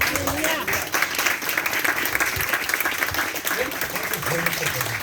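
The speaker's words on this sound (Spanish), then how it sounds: "denle un aplauso al Señor Jesucristo." A church congregation applauds loudly and continuously, steady clapping filling the space throughout.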